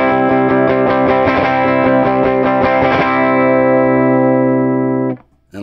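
An electric guitar played fast through a compression pedal, a quick run of sustained, evenly squashed notes that rings out for a while before cutting off near the end, with no talking.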